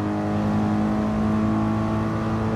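A race car engine drones at a steady high pitch in Gran Turismo Sport during a GT3 Cup race, loud and continuous with strong harmonic tones and no talk.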